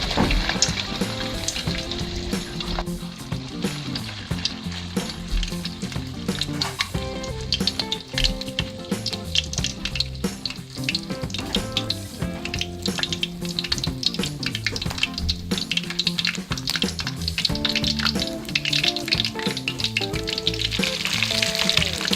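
Loud, continuous sizzling of a silver fish omelette frying in hot oil, close and dense throughout with crackles and pops, while faint music plays underneath.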